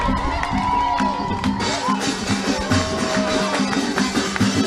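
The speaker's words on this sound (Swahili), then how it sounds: "wale wameketi kwa shangwe tumkaribishe" A rally crowd cheers and shouts to welcome Raila Odinga, a dense continuous roar of voices with whoops rising and falling close by, some speech mixed in.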